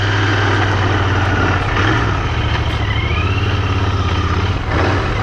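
A Royal Enfield Continental GT 650 with a cafe racer fairing rides along, its engine a loud, steady low rumble with wind rush over it and only slight shifts in revs.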